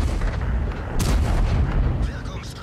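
A tank cannon firing in the World of Tanks video game, heavy Tortoise tank gunfire booming loud and close amid continuous battle noise, with a sharp blast about a second in.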